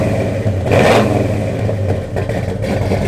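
A 1970 Pontiac GTO engine cranks and catches on a chilly fall day, a brief loud burst of revving that settles into a steady rumbling idle, close up with no talk.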